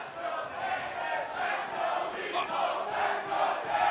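A wrestling arena crowd at the ROH 17th Anniversary match between Matt Taven and Jay Lethal, a steady roaring din of many voices filling the hall with faint commentary underneath.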